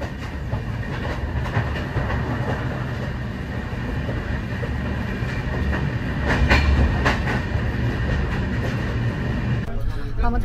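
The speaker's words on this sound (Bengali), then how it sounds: "আমাদের ট্রেন এই মুহূর্তে দমদম ক্রস করলো বাইরে" Inside an air-conditioned coach of the Sealdah–Puri Duronto Express while it runs, a loud continuous rumble with rhythmic wheel clatter over the rails that grows a little heavier later on.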